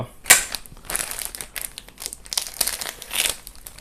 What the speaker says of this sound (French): On enlève le sachet.